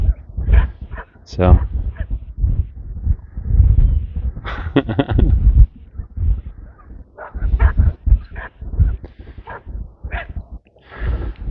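Puppies guarding sheep in a pasture with a curious lamb close by whimper and yip in short bursts. Someone talks gently over them.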